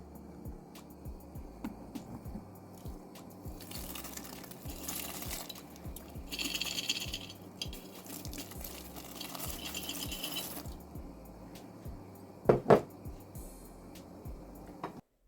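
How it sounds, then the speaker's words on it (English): Freeze-dried diced potatoes, ground beef and other ingredients poured from a jar into a pot of soup near boiling: rattling, pouring clatter with sizzling bubbling, then two sharp clinks near the end. "We're going to go ahead and dump these ingredients in."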